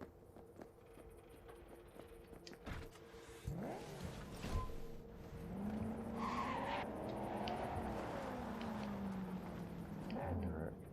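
Tires skid and squeal as a car drives in Cyberpunk 2077, with engine noise and sweeping pitch bends from turns and slides, loud and continuous through most of the stretch.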